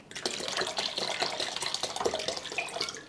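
Water pours steadily into the reservoir of a Silvercrest SEMK 105 C1 ice maker, a continuous close splashing stream with no talk.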